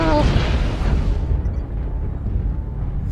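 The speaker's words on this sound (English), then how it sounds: "Airstrike" An airstrike in a video game lands as a heavy, continuous rumbling explosion, loud from the start and slowly dulling as the high crackle fades into a low roar.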